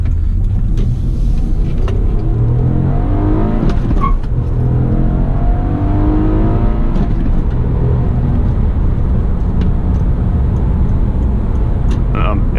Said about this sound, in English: it's pretty easy to heel and toe downshift in this car